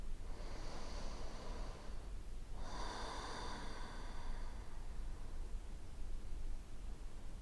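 A slow, deep breath during a second-trimester prenatal yoga flow: a soft inhale, a short pause, then a longer airy exhale, close and quiet against faint room hiss.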